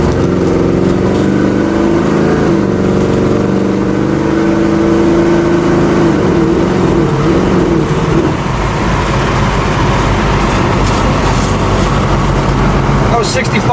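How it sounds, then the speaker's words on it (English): A 1971 Chevrolet Nova accelerates through a couple of gears on the road, its engine note climbing and dropping at the shifts, loud and close with rumbling road and wind noise throughout. "Running through a couple gears here."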